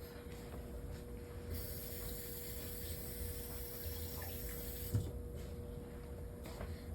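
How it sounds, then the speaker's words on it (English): A kitchen tap runs steadily as hands are rinsed under it while making no-knead bread, a faint, continuous stream of water with a soft splash near the end and a thin electrical hum in the background. "And let me just rinse my hands off."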